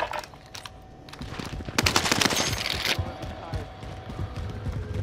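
Rapid automatic gunfire in Call of Duty: Modern Warfare, close and dense bursts with a heavy cluster in the middle, amid other game noise and a voice.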